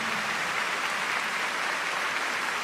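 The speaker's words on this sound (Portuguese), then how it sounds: "E agora vamos aplaudir Jesus." Steady, dense applause from a large congregation at a Catholic Mass, continuous and fairly loud throughout with no pauses or voices standing out.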